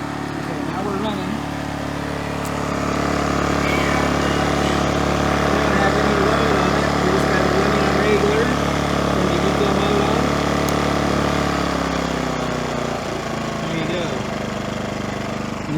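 A Champion 2000-watt inverter generator engine runs steadily throughout at a moderate, even drone, with faint rattles and a slight change in pitch near the end.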